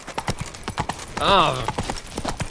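Roach, a horse in The Witcher 3: Wild Hunt, trots with rhythmic clip-clopping hooves throughout, a short whinny rising midway, and a man's brief vocal exclamation.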